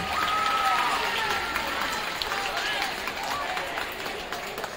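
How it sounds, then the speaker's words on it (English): School assembly audience breaks into a dense, loud round of clapping and crowd noise in a gym-like hall, sustained throughout with faint voices and whistles mixed in. "Can we please give her one big round of applause?"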